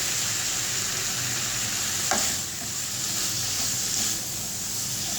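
Cabbage curry with squeezed lemon and chopped coriander is stirred in a hot pan, a steady close sizzle and hiss with a brief scrape of the spoon partway through and no voices.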